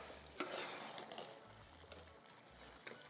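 Vegetable egusi being stirred in a pot as it cooks, faint scraping and soft gentle sizzling with occasional utensil knocks against the pot, low and quiet with a steady background hum.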